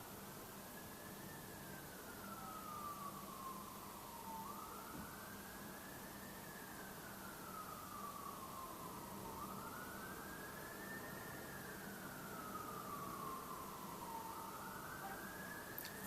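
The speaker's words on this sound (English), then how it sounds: "you're all listening to the fire engine in the background" A fire engine siren wails far off in a still setting in the UK, its slow rising and falling cycle repeating about four times over a low, steady background rumble, faint and distant throughout.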